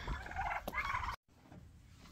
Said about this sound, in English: We'll be back, turkeys.